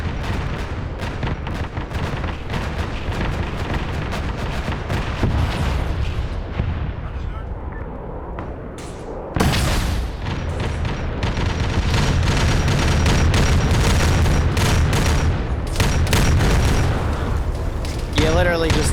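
In the Space Marine video game, a building is blown apart by loud, repeated booming explosions and heavy rumbling blasts, building to a dense, sustained barrage of impacts and debris near the end.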